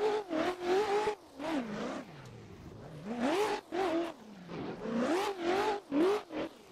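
A rallycross car in a racing game revs hard on a loose dirt course, with its engine pitch swooping up and down in repeated bursts as the throttle is blipped and released.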